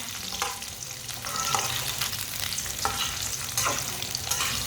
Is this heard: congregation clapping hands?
no